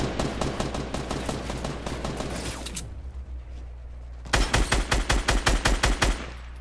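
Rapid gunfire in Fortnite Battle Royale, a dense burst of shots fading out, then after a short lull a louder, evenly spaced run of about ten sharp reports close by, with no talk over it.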